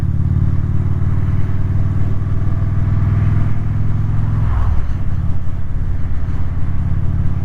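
A motorcycle fitted with an aftermarket seat rides along on an errand, its engine droning steadily and loudly close by with a brief shift in pitch midway, with no talk.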